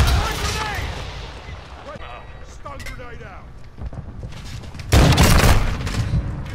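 RPG rocket fire in a shooter video game gives a rumbling whoosh followed by a loud booming explosion near the end, set against battle noise and voices talking.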